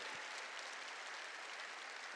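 A church congregation applauding in praise, a steady, dense wash of clapping heard faintly from a distance, with no voices over it.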